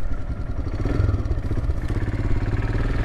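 A big bore Royal Enfield Himalayan motorcycle being ridden along a twisty road, its low thumping single-cylinder engine pulsing steadily and close.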